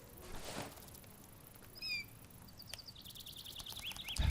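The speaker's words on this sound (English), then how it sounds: "I fucking love the sound of birds." Birds in the Lush exploration game give brief, high chirps and tweets scattered across a few seconds over a soft ambient outdoor bed, fairly faint and spaced apart.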